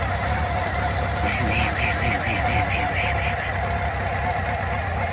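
A cold 1997 Honda CB750 motorcycle engine ticks over at idle, a steady low rumble running continuously beneath a person talking over it.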